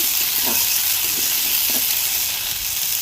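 Vegetables frying in oil in a pan over a clay stove give a steady, loud broadband sizzle and hiss that stays even throughout, with faint clatter beneath and no talking.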